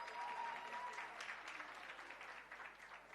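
An audience at a talk gives a speaker a big round of applause, a fairly quiet but steady patter of many hands clapping that carries on evenly throughout.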